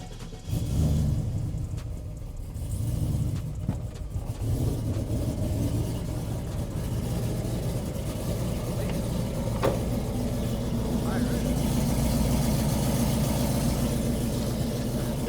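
A cammed Chevrolet Silverado pickup V8 turns over and settles into a steady, loud, rumbling idle that continues close by with no talk.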